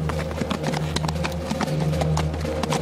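Horse hooves clip-clop in a steady, close rhythm during a riding lesson, several horses moving at an even pace over a low continuous background hum.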